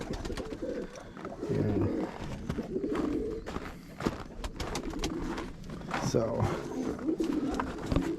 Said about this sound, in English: Just a quick update on the birds. The rollers.